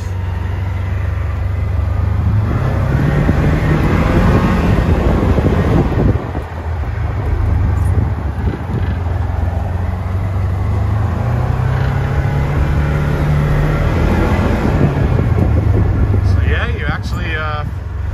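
A 2022 Polaris Ranger XP 1000 Waterfowl Edition utility vehicle drives in high range over rough ground, its engine droning low and steady as it rises and falls. Someone talks throughout over the motor and wind noise.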